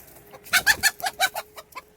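A hen clucks in a backyard, a quick run of about eight close, sharp clucks across two seconds with no one talking.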